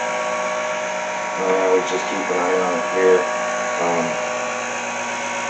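Buon Vino Jet wine filter machine running, a steady electric motor hum with pump whine, close and fairly quiet, while someone talks briefly over it.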